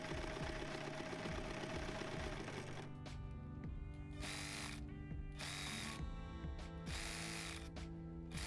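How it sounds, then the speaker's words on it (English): A sewing machine stitching a zigzag seam on a stretchy scarf dress, a dense rapid mechanical rattle running in several bursts separated by short pauses, close and steady. "I'm going to simply make a simple seam with a zigzag stitch"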